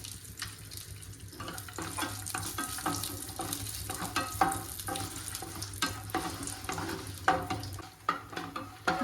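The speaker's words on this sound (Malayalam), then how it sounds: "അതിലേക്ക് കുറച്ച് നെയ്യ് ആഡ് ചെയ്യാം അണ്ടിപ്പരിപ്പ് ചേർത്ത് കൊടുക്കാം" Cashews fry in ghee in a pan for Onam sadya payasam, making a soft, uneven sizzle with scattered stirring clinks and scrapes, fairly quiet and close.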